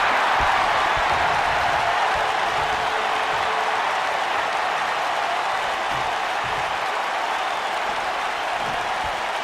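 A sold-out arena crowd in the WWE 2K19 wrestling video game cheers and applauds in a steady, dense wash of noise that holds at an even loudness throughout.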